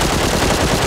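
Video game gunfire, a dense, loud burst of rapid shots running continuously through the whole moment without talk.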